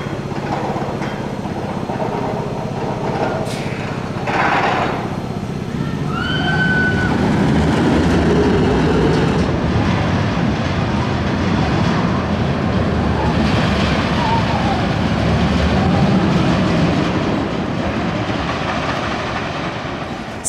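Ride aboard Viper, a 32-year-old Arrow looping roller coaster at Six Flags Magic Mountain: a steady, loud rumble of the train on track with clattering wheels and rushing wind, swelling through the ride with faint distant shouts.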